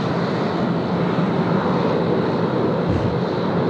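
Qantas airliner arriving at Sydney Airport from the Sunshine Coast, a loud continuous engine roar with wind rumble, steady throughout with no speech.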